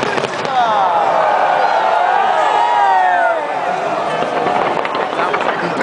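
Fireworks bursting over London at a New Year celebration, a dense continuous barrage of crackling and whistling bursts with crowd noise mixed in.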